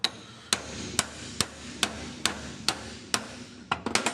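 A hammer beats on a worn universal joint cap of a 1999 Toyota 4Runner, about a dozen sharp metallic strikes at a steady, roughly half-second rhythm, ending in a quicker burst, loud and close.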